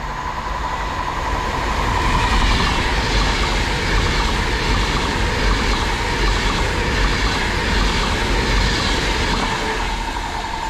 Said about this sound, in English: passing through now, we've got another Pendolino from London Euston to Liverpool